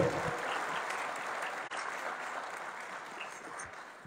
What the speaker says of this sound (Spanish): Un aplauso para las mujeres, que son mayoría hoy en este salón.